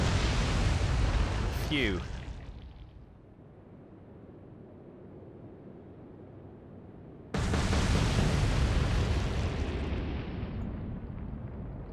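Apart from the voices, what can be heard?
torpedo explosions against warship in video game Atlantic Fleet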